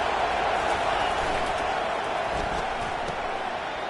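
A steady, dense stadium crowd roars continuously in the College Football 25 video game, holding a loud, even level throughout.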